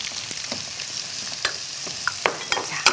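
Shrimp meat stir-fried in a hot pan, giving a steady close sizzle broken by sharp clicks and scrapes of stirring throughout, with no voices.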